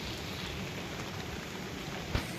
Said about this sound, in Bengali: দেখেন প্রচন্ড বৃষ্টি, পিছনে দেখেন বৃষ্টি পড়তে আছে